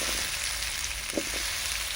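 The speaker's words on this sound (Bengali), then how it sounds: "ওর মধ্যে ধুয়ে রাখা আলুর টুকরোগুলো দিয়ে দিচ্ছি" Small washed potato pieces fry in mustard oil with a close, steady hiss. A brief stir or clink sounds partway through.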